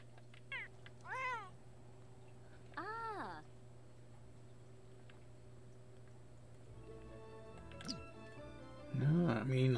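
A cat in The Sims 4 meows several times in short rising-and-falling calls against a quiet hum, with a ticking clock and faint game sounds and a louder burst of game audio near the end.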